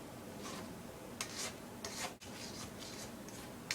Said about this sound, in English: scrape the sides of the bowl so you get all the mixture right down there in the center